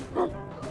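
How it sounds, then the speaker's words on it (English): A single short bark from a dog with her puppies, one quick close yip lasting well under a second. "dog and her puppies"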